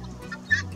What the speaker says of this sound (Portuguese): Galinha Angola